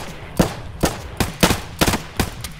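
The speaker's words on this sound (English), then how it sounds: "He's still shooting at me for some reason." Enemy gunfire in the video game Escape From Tarkov: about seven sharp, fairly loud gunshots spaced irregularly a few tenths of a second apart, with brief echoing decays between them.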